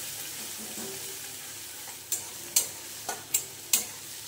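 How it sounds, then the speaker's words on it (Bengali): Chopped onion fries in oil with cumin for a Bengali pumpkin dish, a soft steady sizzle broken by five sharp spatula taps against the pan in the second half. "এই পেঁয়াজ কুচিটা ততক্ষণ পর্যন্ত ভাজা হবে, পিঙ্ক পিঙ্ক ভাজা হবে।"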